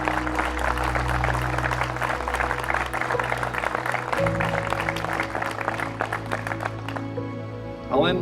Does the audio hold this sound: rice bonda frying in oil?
no